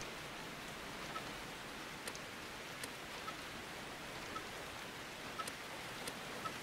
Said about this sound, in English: It's still raining quite heavily